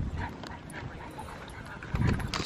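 An excited dog yips, whimpers and barks at a dog beach under a boardwalk, close and busy over beach ambience, with a louder burst near the end and people talking nearby.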